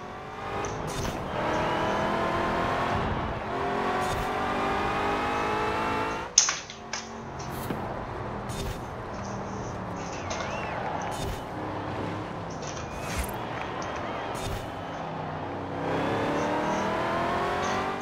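A heavily modified car engine in the racing game Forza Horizon 4 revs and accelerates through repeated gear changes, with a sharp impact-like jolt midway and a steady loud drone.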